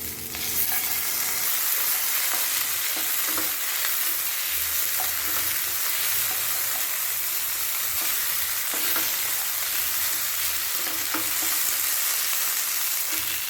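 Onions frying with ginger-garlic paste for a mushroom capsicum gravy, a loud, dense, continuous sizzle close up with occasional faint stirring scrapes and no voices.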